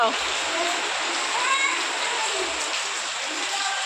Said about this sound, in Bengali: দেখো বৃষ্টি অনর্গল হয়ে যাচ্ছে